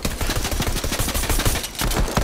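Rapid pistol fire in Fortnite comes as a loud, dense string of sharp shots in quick succession, nearly continuous for two seconds with one short gap, and no voices over it.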